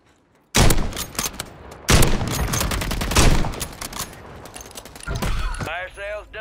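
Several loud, sharp KAR 98K rifle shots ring out in the Rebirth Island video game, spaced roughly a second or more apart, and a brief voice-like sound follows near the end.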